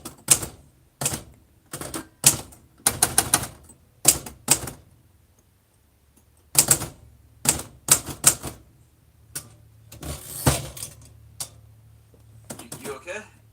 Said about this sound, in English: Why are you on a typewriter?